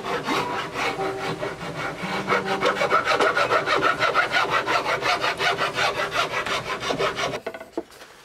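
A fine-toothed four-in-hand rasp files wood on a cigar box guitar build, with rapid rhythmic rasping strokes close up that scrape back and forth steadily before stopping abruptly, no voices.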